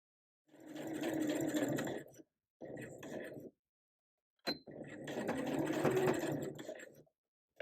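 A sewing machine stitches a seam on a bodice with a regular foot, running in three steady bursts separated by short pauses, close and fairly quiet.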